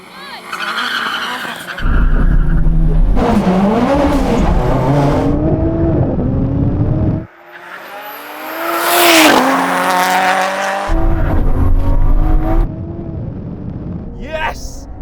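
Tuned race cars, including a 700-horsepower Supra, an RX-7 racing car and a Porsche 911 Carrera, launching at a drag race with loud revving engines and tire squeal, climbing engine tones, a brief lull, then another roaring run with a voice heard.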